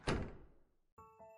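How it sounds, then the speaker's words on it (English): A door is pushed shut in a visual novel game, giving a single soft thump that fades out, followed by a short tonal chime. "Mara goes to close the door, which Murakumo didn't shut when he heard it left."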